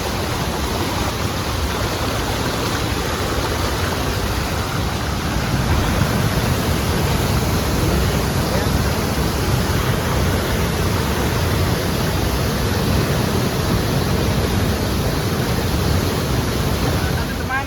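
Bidadari waterfall on Mount Tambora roars as a steady, dense wash of falling water, loud and unbroken throughout with no clear pauses.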